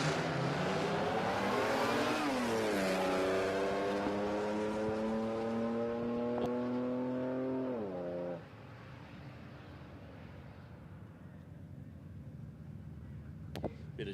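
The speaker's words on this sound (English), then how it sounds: "Shane Potter, a little VN with the supercharged V6." A Holden VN with a supercharged V6 launches down a drag strip, its engine note loud and rising through the gears with clear harmonic sweeps before cutting off abruptly at the end of the run, leaving faint track ambience.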